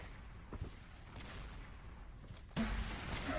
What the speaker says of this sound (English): Zerg tossing some mortar spam around